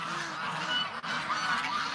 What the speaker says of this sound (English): All right, well, let's let the ducks out.